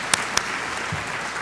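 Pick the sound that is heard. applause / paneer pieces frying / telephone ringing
applause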